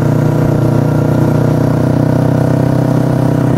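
A two-cylinder Kawasaki Ninja 250, customised in Royal Enfield style, runs steadily on a test ride, its loud, even engine drone holding a constant pitch without breaks.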